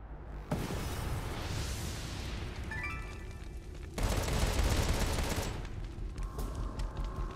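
Rapid gunfire bursts and blasts from the video game Contra: Rogue Corps on PS5, dense and loud throughout, with a sharper surge of shooting midway and metallic pings scattered among the shots.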